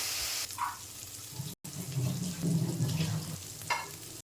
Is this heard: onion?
yes